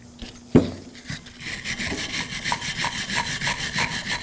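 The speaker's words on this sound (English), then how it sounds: "Using a wire brush, now we're gonna clean the area where the things go" Wire brush scrubbing the brake caliper bracket on a 2014-2020 Acura MDX during a front brake replacement. A sharp knock is followed by rapid, rhythmic rasping strokes, close and fairly loud, with no talk.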